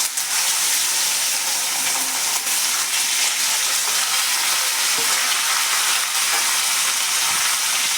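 Tindora (ivy gourd) fries in hot oil with cumin and asafoetida, giving a loud, steady sizzle with crackling pops, stirred now and then, and no talking.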